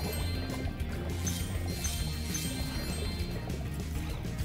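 Water splashing and sloshing in Spyro 2: Ripto's Rage (Reignited Trilogy) as the character jumps into water, a steady liquid wash with game sounds layered over it.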